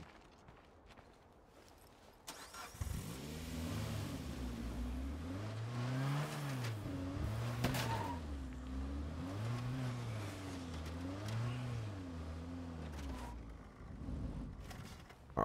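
A car driven through the State of Decay 2 video game, its engine droning steadily with rising and falling revs throughout, alone with no talk.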